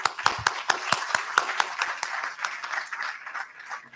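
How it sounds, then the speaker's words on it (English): An audience applauding a keynote speaker on forgotten capital and the climate crisis, sparse distinct claps at first that thin out into a light, scattered patter. "Let us have a big round of applause for Dr."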